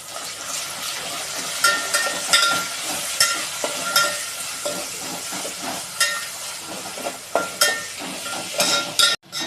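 Tomatoes frying in a pan with ginger and garlic, a continuous sizzle and hiss punctuated by repeated stirring scrapes, close and moderately loud with no talking.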